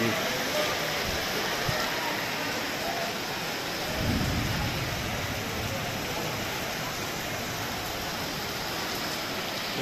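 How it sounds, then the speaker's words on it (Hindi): Heavy rain pours steadily over an empty outdoor fruit and melon market, a dense continuous hiss with a low rumble around the middle, loud and close throughout. "बहुत तेज़ बारिश हो रही है"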